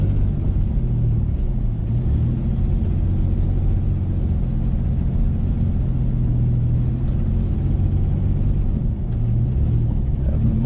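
A car's engine rumbles and rises and falls steadily as the driver modulates the throttle on a snowy North Carolina mountain road with sketchy traction, a low, continuous in-cabin drone without talking.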